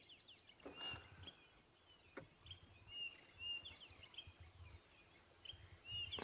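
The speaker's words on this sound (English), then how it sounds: "I think I hear quite an interesting little bird up ahead, calling very conspicuously." Small bird calling repeatedly in high, thin chirps somewhere ahead during a safari drive, faint and distant against a soft outdoor background.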